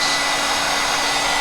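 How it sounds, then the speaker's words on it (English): A heat gun blows hot air over a scuffed surface before resin work, a steady, loud broadband rush that holds unchanged through the short stretch with no voices. "let me get my heat gun. Not a torch. Get my heat gun."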